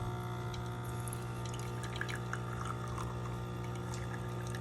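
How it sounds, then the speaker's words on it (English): A home espresso machine pre-infuses two coffee shots with a little hot water, giving a steady mechanical hum with faint dripping and trickling on top. "Now it sends a little bit of hot water into it, so it disperses evenly."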